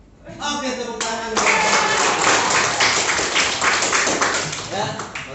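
A classroom of students claps hands together in a quick, rhythmic burst after a teacher's concentration exercise, starting sharply and holding loud, dense and close for several seconds, with voices mixed underneath.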